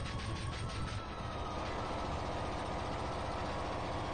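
A steady rumbling train engine plays in the retro video game Gunstar Heroes, a continuous heavy drone at even level with no talk over it.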